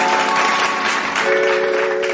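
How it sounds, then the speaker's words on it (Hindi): Loud applause welcoming a singer onto the stage, with a dense, sustained wash of clapping and a steady musical tone humming underneath. "जोरदार करताली सहित स्वागत करिबा"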